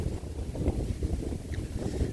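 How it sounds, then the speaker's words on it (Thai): Wind blows steadily outdoors in a rural Thai setting, a low rumbling buffet across the microphone with continuous fluttering gusts and no other clear sounds. "ลมก็แห้งแห้งพี่น้อง"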